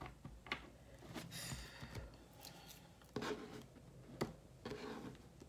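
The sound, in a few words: shuffling tarot cards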